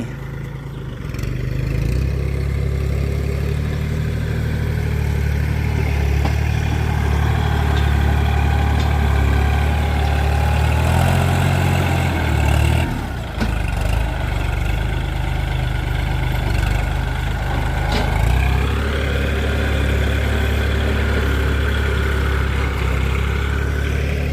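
A large diesel engine idles steadily with a deep, rumbling low drone, briefly dipping midway before settling back into the same continuous chug.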